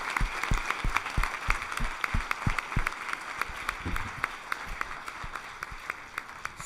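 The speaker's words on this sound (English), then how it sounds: "let's give all the students a big round of applause." Audience applause for students at a college industry conference award ceremony, a steady patter of many hands clapping at moderate distance, fading slightly toward the end, with no talk over it.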